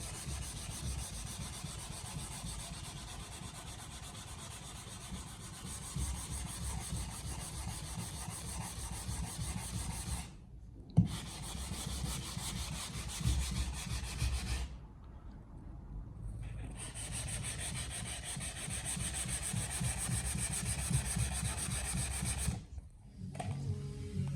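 Hand sanding of body filler on an Audi TT front bumper during a smart repair, a steady close rasping rub running in long strokes with brief pauses between passes.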